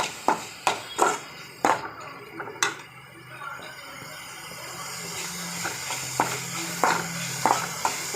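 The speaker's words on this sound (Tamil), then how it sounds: "இது நல்ல வெங்காயத்தை கொஞ்சம் வதக்கிக்கலாம்." Chopped onion sautés in a pan for a Tamil egg-stuffed chapati recipe, a soft steady hiss and sizzle under a string of sharp utensil clicks and taps that thin out partway through.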